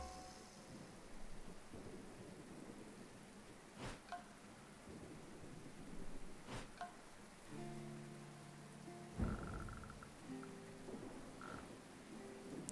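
Storm in the video game Dead in Vinland, with steady rain on surfaces and several sharp thunder cracks rolling over a dense wet wash, with no voices.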